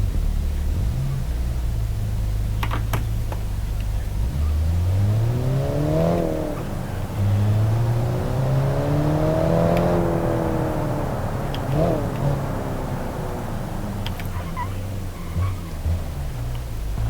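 An AI-designed 2001 sporty economy car races in the BeamNG driving game, its engine revving loudly and climbing in pitch through several gear shifts, holding a steady, close engine drone throughout.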